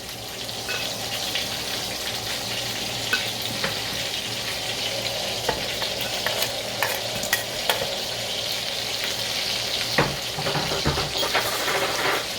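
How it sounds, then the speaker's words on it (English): Oxtail meat sears in a hot pan with a steady, close sizzle and frying crackle, broken by occasional stirring scrapes and clinks, and no voices. "while I'm waiting my meat to be seared"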